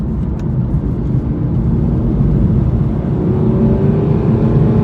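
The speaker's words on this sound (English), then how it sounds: "And you can really hear that 6 litre V12" Aston Martin DB9 with its 6-litre V12 engine rumbling loudly from close by, a deep continuous drone that rises gradually in pitch as it revs after a downshift.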